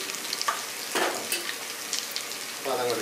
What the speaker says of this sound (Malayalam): ഇനി നമുക്ക് ഈ എണ്ണക്കകത്തോട്ട് തന്നെ ഉണ്ടല്ലോ നേരത്തെ അരിഞ്ഞാച്ച ഉള്ളി ഇല്ലേ അത് വഴറ്റിയെടുക്കണം